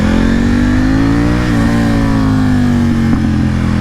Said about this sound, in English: Boy, I can't believe how vicious this bike sounds with a full acro exhaust.